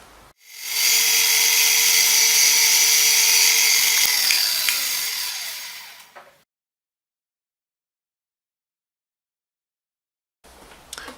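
A 3.5 mm drill bores a hole in sheet metal for a vintage truck model, whirring at high speed in a loud, steady whine for about five seconds before spinning down, then silence and a brief knock.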